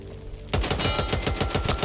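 RPK machine gun firing in Back 4 Blood, a rapid automatic burst of a dozen or so evenly spaced loud shots that starts abruptly after a brief quiet pause and continues steadily to the end.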